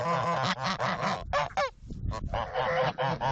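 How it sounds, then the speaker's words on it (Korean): Domestic farm geese honk loudly and repeatedly up close in an orchard, a rapid run of harsh nasal calls, several birds overlapping with brief gaps. "과일이면 뭐든지 잘 먹는 귀여운 거위들"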